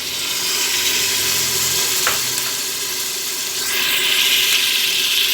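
Peppers, dried chili and grated tomatoes sizzle steadily in a hot pan, a continuous close frying hiss with brief scrapes as the mixture is stirred, no voices over it.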